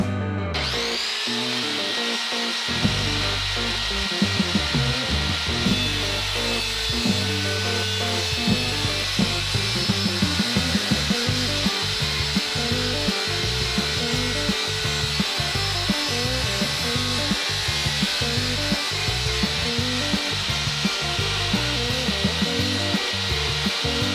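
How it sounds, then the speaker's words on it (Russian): A homemade sawmill built from a handheld circular saw cuts through wood with a loud, sustained whining roar that dips and surges as the blade bites into the timber, running steadily and up close. "пришло время продемонстрировать эту циркулярную пилу в работе"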